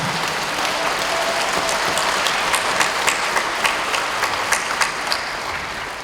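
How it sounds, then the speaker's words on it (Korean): An audience at a national women's convention applauds four presidential candidates in a sustained, dense wave of clapping from a large crowd that fades slightly toward the end. "이 네 분 후보를 위해서 박수 한번 보내주십시오"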